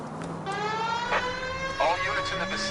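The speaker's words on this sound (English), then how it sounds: "People might move out of the way quicker if you use the siren." A police car siren in the video game L.A. Noire wails with a steady rising-and-falling electronic tone throughout, loud and close, with brief bursts of other sound layered in.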